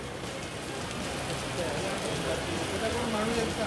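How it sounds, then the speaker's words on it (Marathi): Heavy rain in Thane city pours down as a dense, steady hiss of drops on surfaces, continuous and fairly even throughout, with no voices over it. "ठाणे शहरात मुसळधार पाऊस"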